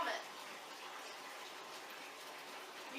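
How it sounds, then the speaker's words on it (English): Water runs steadily from a tap into a bathtub being cleaned, a faint, even hiss of flow that continues without change. "while the water's running,"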